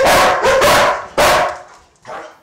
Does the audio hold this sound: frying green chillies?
no